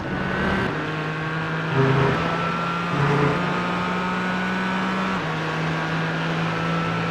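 A Porsche race car in Gran Turismo 4 drones with a steady, tonal engine note, pitch stepping up and down through gear changes as it runs close behind another car.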